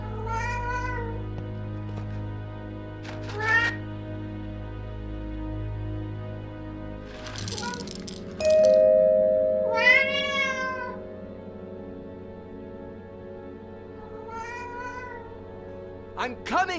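A cat in the Alfred Hitchcock Vertigo video game meows several times over a steady low hum, with one longer drawn-out meow in the middle and a few shorter calls spread across the scene.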